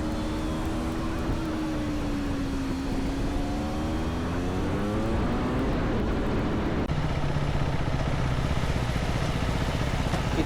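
Trucks pass on a highway near Hazira port, heard from a moving motorbike: a continuous close engine and road roar with a droning tone that rises and falls as vehicles go by.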